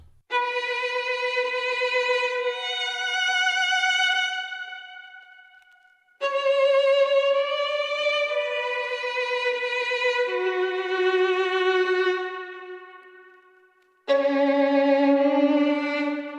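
A dark, moody violin sample processed with an RC20 vinyl preset and a compressor plays in three sustained, harmonically rich phrases, the last cut short, loud and alone with no talking.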